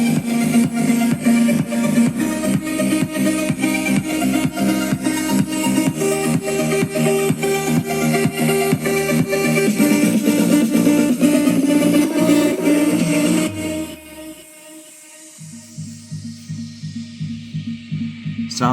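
Music plays loudly and steadily from an Xpoovv outdoor Bluetooth flame speaker, with a dense beat and full bass throughout, dropping briefly near the end before the track picks back up.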